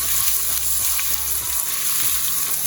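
Steak laid into hot oil in a pan gives a loud, steady sizzle with crackling spits, close and continuous with no talking.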